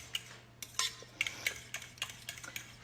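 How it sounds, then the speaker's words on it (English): Eggs and nutmeg whisked in a bowl for a sausage breakfast casserole, quick irregular clinks and taps of the whisk against the bowl, close and fairly faint, with a low steady hum beneath. "Whisk that together real quick here."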